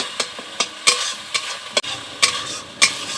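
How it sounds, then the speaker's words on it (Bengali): A spatula scrapes rhythmically through a vegetarian cauliflower roast in a pan, about eight crisp strokes in quick succession over a soft background sizzle, close and fairly loud with no talking. "একটু ভালো করে নাড়াচাড়া করতে হবে।"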